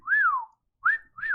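Charlie whistling three short rising-and-falling notes, the first longest, clear and fairly close with quiet gaps between, no talking.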